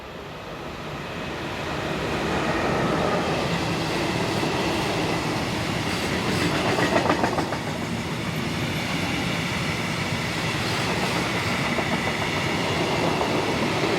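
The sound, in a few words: freight train of steel slab hauled by locomotive 145066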